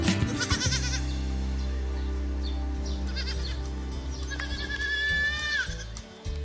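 Sheep and rams bleat inside a shared farm enclosure, several wavering calls rising over a steady low drone, with one long, loud bleat close by near the end.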